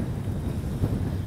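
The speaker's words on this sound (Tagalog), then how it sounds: "Lakas pa rin ng hangin." Strong wind at a hilltop campsite in the Philippines, a brief low rumbling buffet across the microphone, steady and loud.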